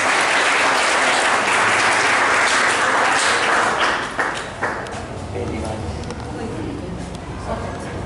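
Audience at a disability legal services awareness event in Nagda breaks into loud, dense applause that fades after about four seconds as a voice begins talking over the remaining clapping.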